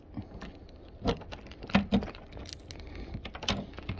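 Keys jangle while a shed door is locked, several short metallic clinks and rattles in quick bursts, close by and fairly faint, with no talking.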